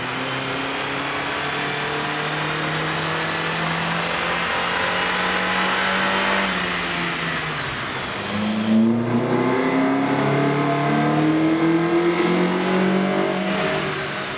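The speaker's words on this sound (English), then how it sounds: "Here's a comparison of the Altima sound on the dyno with the stock OEM system versus AEM's air intake" A Nissan Altima 2.5L engine with an AEM air intake revs steadily at high RPM on a dyno, then the pitch dips and climbs again in a loud, sustained roar with rising harmonic whine.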